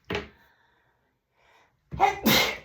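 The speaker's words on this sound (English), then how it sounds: "Oh, I gotta sneeze 1 sec." A sharp, close sneeze bursts out, followed by quiet, then another loud, breathy outburst.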